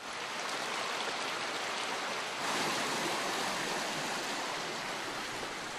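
A mountain stream rushes through a limestone canyon in a nature reserve, a steady broadband roar of flowing water, loud and continuous with no voices.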